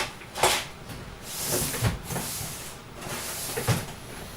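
A drawer in a home workshop being opened and rummaged through, several soft knocks and rattles of items shifted around, faint and close.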